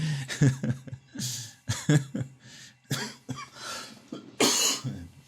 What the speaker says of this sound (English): Apologize for me coughing right there